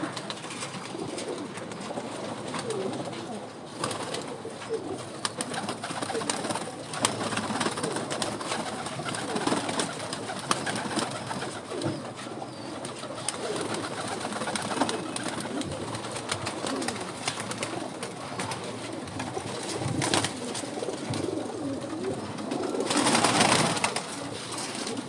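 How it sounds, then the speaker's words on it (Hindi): Pigeons coo softly and repeatedly amid constant rustling and fluttering, with low bubbling calls running throughout at moderate volume. "मेरे पास और भी कबूतर हैं"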